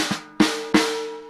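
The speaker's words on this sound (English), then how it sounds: "you hear that little rattling. That's the snare drum." Three sharp snare drum hits with the snares engaged, each crack carrying a bright buzzing rattle that rings out, the strokes evenly spaced and close up on a jazz kit.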